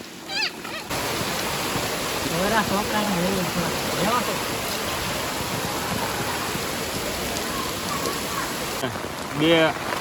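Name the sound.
rushing floodwater in a street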